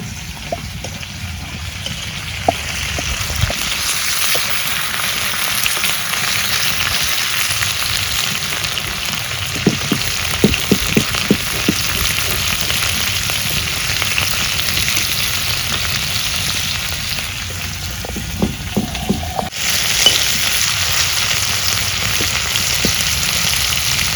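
Continuous loud sizzling and crackling of small fish frying in hot oil, with scattered sharp pops and spatters throughout.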